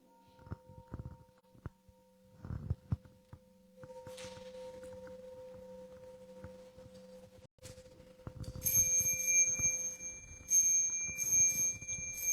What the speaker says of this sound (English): Inviting the bell.